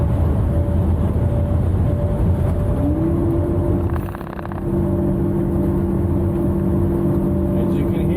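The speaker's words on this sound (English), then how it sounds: "That noise is a Jake brake working hard to keep me controllable speed" A commercial truck descends a highway at 65 mph with its Jake brake engaged, a loud, steady low engine drone with a sustained tonal hum shifting partway through, heard from inside the cab.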